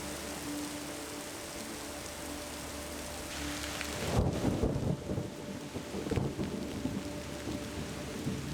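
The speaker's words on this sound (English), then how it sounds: "It's raining right now." Steady rain patters on surfaces while two heavy rolls of thunder rumble through, the first building into a long crash and a second following shortly after.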